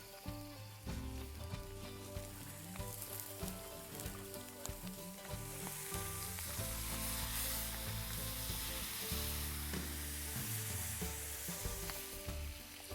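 Fish fry in butter in a pan with a continuous dense sizzle and crackle, close and steady, with occasional stirring clinks and no talking.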